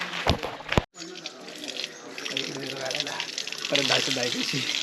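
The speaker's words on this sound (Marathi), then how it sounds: "मंदिरामध्ये जाताना तुम्ही हाताने पाय धुवा" Tap water running steadily at a temple entrance where visitors wash their feet, a continuous splashing flow heard close by with people talking over it.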